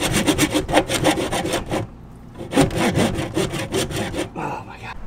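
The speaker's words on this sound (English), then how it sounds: "I'm just gonna try to cut it with a handsaw here." Handsaw cutting a toilet vent pipe in an RV, rapid close rhythmic rasping strokes in two bursts separated by a short pause, then a few softer scraping sounds.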